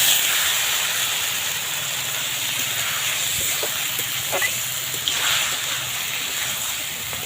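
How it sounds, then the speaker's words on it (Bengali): Water poured into spices, onion, ginger and garlic frying in a pan sets off a sustained loud steamy hiss that stays steady with a few faint clinks and bubbling crackles. "এবার এতে দেবো একটু জল"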